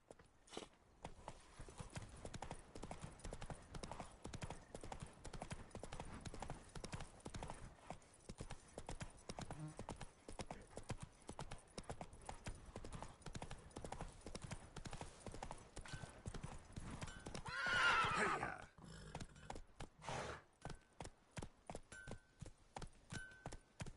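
Hooves of Roach, a horse in a video game, clip-clopping at a fast steady gallop throughout, with a brief louder whoosh or whinny near the end and a rider speaking briefly.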